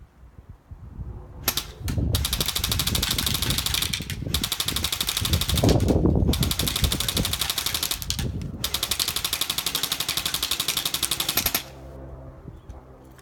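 An airsoft gun fires .25 g biodegradable BBs outdoors in long sustained bursts of rapid, evenly spaced shots, broken by a few short pauses before the firing stops, with no voices.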